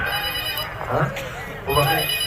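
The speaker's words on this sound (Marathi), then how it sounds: "लगेच रिंग" A telephone rings steadily during a comedy stage act, its tone running under loud voices talking over it.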